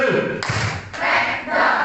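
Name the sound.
hand clapping pattern in a class exercise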